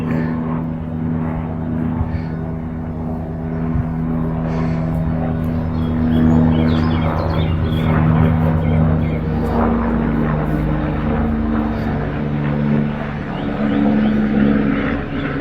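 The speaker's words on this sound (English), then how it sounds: "can hear an aeroplane." A distant aeroplane drones steadily overhead in the countryside at Grantchester near Cambridge, a low continuous rumble that swells slightly in the middle, with faint outdoor background noise.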